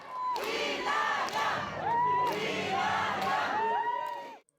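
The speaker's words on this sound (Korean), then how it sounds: "이낙연 전 대표가 등장하자 지지자들의 환호가 터져나옵니다." Supporters cheer and whoop loudly as former Democratic Party leader Lee Nak-yon appears at a joint party founding convention, a dense crowd roar with shouted voices rising in waves for about four seconds before cutting off.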